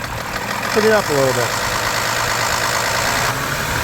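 2010 BMW 328i xDrive engine revved to a higher RPM, a steady close mechanical drone with no ticking, while someone talks briefly over it near the start.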